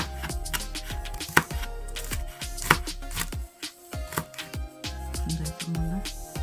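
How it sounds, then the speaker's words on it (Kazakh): A knife finely chops onion rapidly on a cutting board, a fast irregular series of sharp taps close by, with short pauses between runs. "Пиязды майда кылып турап алабыз."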